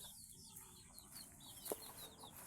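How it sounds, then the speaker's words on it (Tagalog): Several white chickens make soft, scattered clucks and short calls across a steady farmyard background, with one brief louder squawk partway through. "At ito yung ating mga puting manok."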